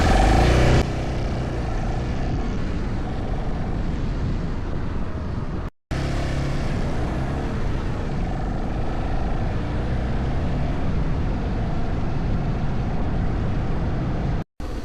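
Loud, continuous broadband engine and exhaust roar from a passing car on a London street, sustained across about fifteen seconds with two brief dropouts, with no voices.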